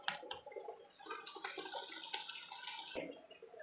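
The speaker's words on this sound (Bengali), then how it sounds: "ধুয়ে অল্প জল দিয়ে দিচ্ছি" A little water is poured into a cooking pan holding spices such as dried chilli and cumin powder, giving a faint, close trickle and splash that runs for a few seconds, with small clinks and no voices.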